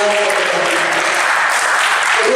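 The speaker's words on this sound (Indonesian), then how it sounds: "Beri aplaus yang sangat meriah kepada kedua" Enthusiastic audience applause at a book discussion and launch event: a dense, loud, even wash of clapping from a crowd that holds steady for a couple of seconds.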